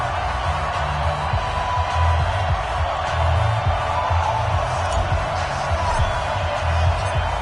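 A football stadium crowd in an EA Sports NFL game roars steadily as the Washington Redskins prepare to face the San Francisco 49ers, with a loud, continuous cheering wash and a low rhythmic pulse underneath.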